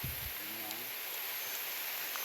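Steady rain falls outdoors as a soft, even hiss that holds for the whole stretch, with a brief voice near the start.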